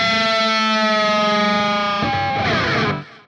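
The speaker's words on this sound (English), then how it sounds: "you strike two strings and come back down with two" Distorted electric guitar doom bend with two strings struck together and bent back down, a loud held chord whose pitches slide lower into a noisy, effect-laden smear before cutting off.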